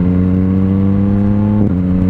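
A Suzuki Bandit 600 four-cylinder motorcycle engine hums loudly and close, a steady harmonic drone with a brief blip in revs near the end, no talk.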